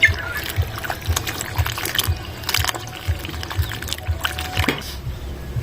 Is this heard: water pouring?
yes